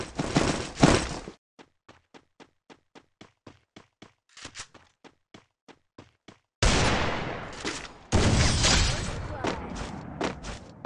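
Evenly spaced single gunshots from Garena Free Fire Clash Squad, about a dozen sharp cracks in steady rhythm, framed by louder bursts of fire and noisy action, with voices talking around them.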